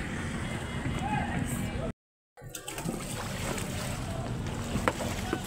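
A small outrigger boat (bangka) moves across water with a steady engine drone and splashing, briefly cut to silence, while people talk faintly in the background.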